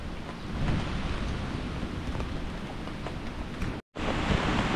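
Heavy typhoon rain pours steadily by the sea with a dense, continuous roar that may carry distant thunder and surf, broken by a brief dropout near the end.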